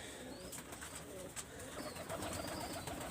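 Flying pigeons of imported bloodline cooing in a loft, a steady close murmur of soft coos over a busy, noisy background.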